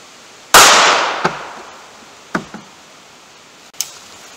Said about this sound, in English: I'm going to run the full metal jackets 380 first and then the 45 ACP